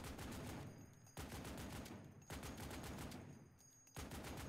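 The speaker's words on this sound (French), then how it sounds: "j'ai la Browning, j'ai à peu près 10 magasins de chargeurs. Et quand je tire, vous pouvez regarder les munitions." Browning machine gun fired from a turret in Roblox BRM5, sustained rapid automatic bursts in four long strings with short breaks between, dense and continuous but quiet overall, with no talk.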